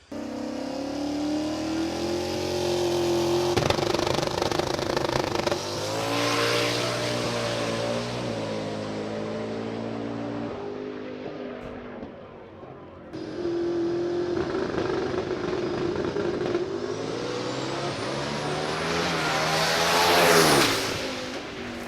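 A drag race car set up with a single rear spring launches and accelerates down the track, loud harmonic engine roar rising through gear changes, a brief dip, then a second run climbing again to a high-pitched scream near the end.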